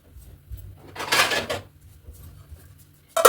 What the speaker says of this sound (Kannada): ಇದು ಒಂದು 5 ನಿಮಿಷ ಲಿಡ್ ಕ್ಲೋಸ್ ಮಾಡೋಣ